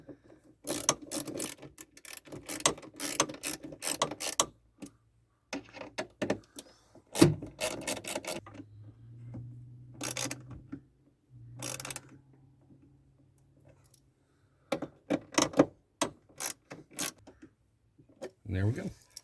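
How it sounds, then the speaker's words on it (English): A ratchet tightens the T25 Torx bolts on a full-size Jeep hood release lever upgrade, giving quick bursts of clicking with quiet gaps between them, close but fairly faint, mixed with someone talking. "The final step in this procedure will be to tighten the T25 Torx bolts."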